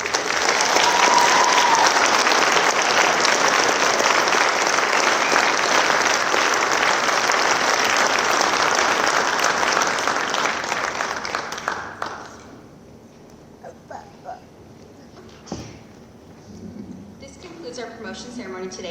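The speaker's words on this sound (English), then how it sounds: "Let's all give a round of applause for our sergeants and captains today." A crowd applauds at a Montana Highway Patrol promotion ceremony, loud sustained clapping that fills the room for about ten seconds before thinning to scattered claps, after which someone speaks.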